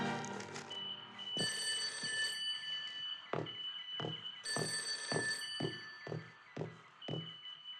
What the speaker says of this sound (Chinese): 薛长官，委员长来电